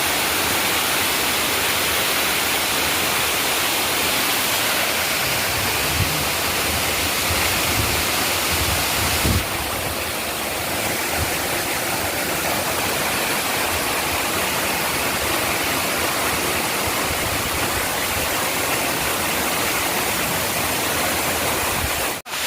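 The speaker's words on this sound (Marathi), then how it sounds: "बनाचा धबधबा नाव आहे बनाचा धबधबा" Banacha waterfall in the village of Dhamapur, a powerful continuous roar of falling water, loud and close, with no talk.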